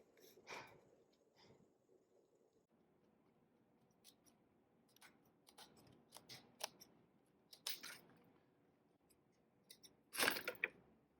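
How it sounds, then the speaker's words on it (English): A molded piece trimmed with scissors, given as a face-mold shape made from a heated corset-bone material, heard as quiet, sparse snips and small crisp cuts close by, with a sharper cluster of snips near the end. "And then I can trim it to any shape I like."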